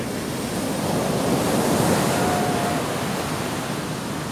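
Ocean surf rolls onto a Caribbean beach near Toco lighthouse in Trinidad, a continuous broad wash of waves with some wind rumble, swelling slightly in the middle and holding steady with no voices.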